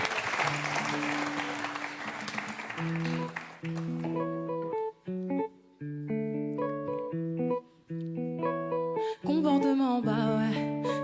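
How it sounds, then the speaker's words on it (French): An audience at a live music show claps for about three seconds in a dense, steady wash, which then gives way to sustained electronic tones and melody. "sous les applaudissements du public en chaleur"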